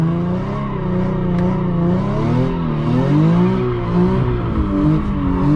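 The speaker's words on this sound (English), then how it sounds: "So we're just gonna do 2 donuts right here, and you're just gonna watch. So we're gonna bring the RPMs up." Car spinning donuts with the revs held high, a loud, sustained engine roar that rises and falls in pitch as it circles, with tire noise underneath.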